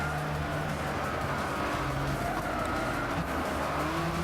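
Race cars roar continuously in Gran Turismo 6 while passing a GTO, a loud, dense engine drone with faint tire squeal and no talking.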